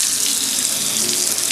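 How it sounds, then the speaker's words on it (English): Water rushes steadily from a garden hose outdoors, a loud, continuous hissing splash that holds without a break for the whole stretch. "Kinking the hose."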